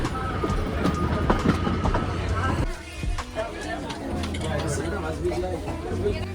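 A train rolls along near Ooty, switching tracks, with rumbling wheels and clattering over rail joints and a brief jolt midway; voices chatter in the background.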